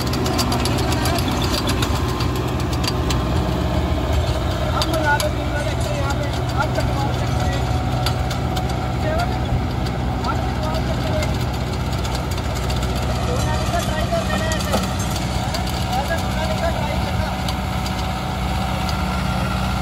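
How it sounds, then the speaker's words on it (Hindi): A Kubota MU5502 four-wheel-drive tractor engine runs steadily at idle with a smooth, even diesel drone and faint knocking, loud and continuous throughout, with someone talking over it. "बिना किसी दबने के बिल्कुल गोल आवाज़ के साथ में ट्रैक्टर चल रहा है"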